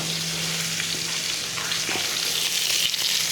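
Onions go into a hot pan for browning beside ox liver with bacon and jalapeno, setting off a dense, bright frying hiss that holds steady throughout, close and loud, with no speech.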